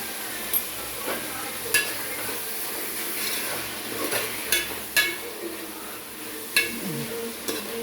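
Tomatoes with salt cooking in a pan give off a steady soft sizzle and hiss, with occasional light clinks and scrapes from stirring, close up and with no one speaking.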